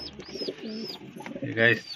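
Pigeons coo softly in the background while someone speaks over them, with a brief brighter call near the end.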